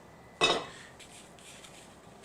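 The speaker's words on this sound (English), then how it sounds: "Next we'll add some oil to the pan, give it a swirl" Oil swirled around a stainless steel skillet gives one sharp metallic scrape-and-clatter of the pan, then quieter faint rustling, with no talk.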